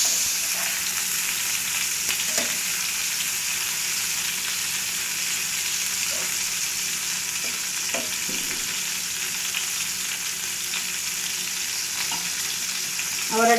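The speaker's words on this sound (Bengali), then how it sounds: "ভাজা হয়ে যাচ্ছে লাল লাল করে।" Stuffed potato dolma sizzles steadily in hot oil as the pieces are turned over, a dense, even frying hiss with faint clicks of handling, close by and with no talking.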